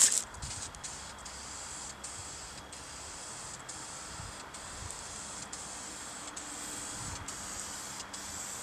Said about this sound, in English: I'm going to also give it a clear coat with some polyurethane spray